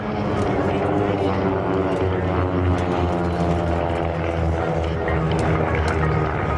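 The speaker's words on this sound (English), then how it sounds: "here the pilots of the wingmen there using their throttles back and forth to try to stay in formation" Propeller aircraft fly in formation at the 2014 LA County Airshow, their engines a loud, continuous droning hum with throttles shifting slightly, heard under a public-address announcer talking over it.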